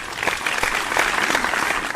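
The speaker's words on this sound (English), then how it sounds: "Give her a hand, guys. Come on. Applaud." A short burst of dense clapping from a studio audience, continuous and fairly loud for about two seconds.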